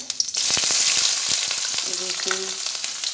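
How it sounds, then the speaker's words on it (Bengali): Chopped vegetables frying in a pan for chow mein, a loud steady sizzle that bursts in after a couple of clinks, close up, with brief utensil taps and a faint tonal hum, no talking. "আর এখানে সবজি যে সবজি আমার কাটা আছে এগুলো সব দিয়ে ভেজে নিয়ে"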